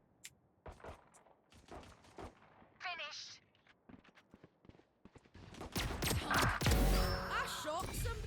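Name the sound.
gunfire in the video game Valorant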